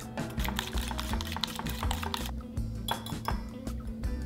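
A whisk rattles quickly against a bowl while eggs and sugar are beaten together, a busy run of close, rapid ticking clinks that pauses briefly midway, with no talking.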